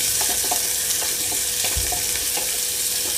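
Sliced onions frying in oil with cinnamon, cloves and cardamom over medium flame for a white chickpea curry, a constant close sizzle broken by small ticks of stirring, no speech.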